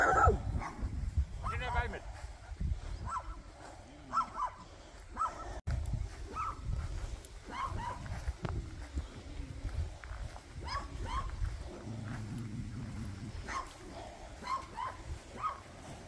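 Dogs at a campsite bark and yip in short, scattered bursts, moderately distant, while people talk nearby.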